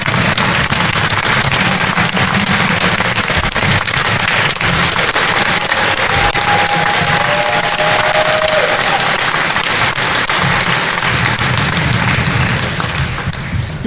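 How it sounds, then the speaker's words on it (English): A banquet crowd gives loud, sustained applause for Hall of Fame inductees, dense clapping from many hands with a few whistles, continuing without pause for over ten seconds. "Can we have one last round of applause for the induction class of"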